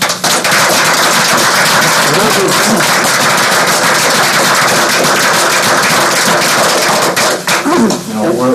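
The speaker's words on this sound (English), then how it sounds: "I'd like a round of applause for them" A city council meeting audience gives a round of applause for a proud local sports program, loud, dense clapping that fills the whole stretch with sharp hand claps up close, a voice rising briefly near the end.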